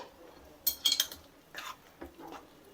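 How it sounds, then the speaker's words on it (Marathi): A spoon clinks and scrapes against a pot while puran filling is mixed with dry ginger and nutmeg powder, with a few quick metallic taps then softer scraping strokes, close and fairly quiet. "परत एकदा हे छान मिक्स करून घ्यायचं."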